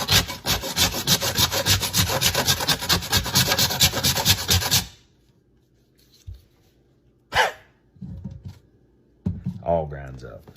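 Frozen ginger root is rasped hard against a grater in steady rapid strokes, loud and continuous for several seconds before stopping, followed by a brief scrape and a person talking.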